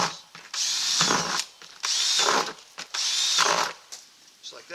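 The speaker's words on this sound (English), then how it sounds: "I'm just going to cut some holes in the bottom, or drill some holes." A power drill bores holes through the bottom of a plastic container, three whining bursts of about a second each separated by short pauses, close and loud.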